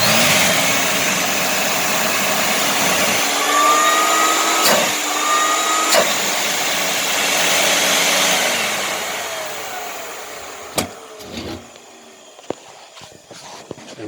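A Filtex Tank, an early built-in vacuum cleaner, runs with a loud, steady motor roar and whine. Near the end it winds down and cuts out, leaving a few scattered clicks and knocks.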